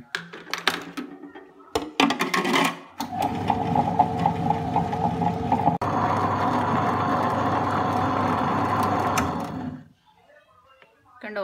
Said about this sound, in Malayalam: ഇത് ഉഴുന്ന് കടലപ്പരിപ്പ് പരിപ്പൊക്കെ കുതിർത്ത് വെച്ച് അരയ്ക്കാൻ പോവാണ്.